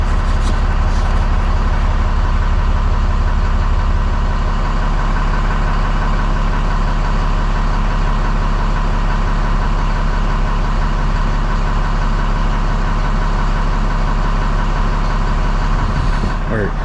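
A Ram 2500 pickup with its stock exhaust idles close by, a loud continuous low rumble that holds steady throughout, with a deeper throb in the opening seconds.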